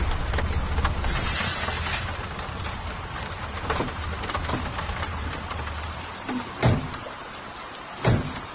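Steady rain patters on surfaces outdoors in a continuous wash, while a pigeon coos softly and a few louder drops or knocks punctuate the background.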